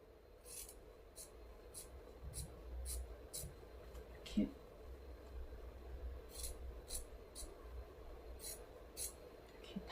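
Scissors trim the fabric seam allowance of a sewn face mask with a series of short, crisp snips in irregular bursts, close and fairly quiet.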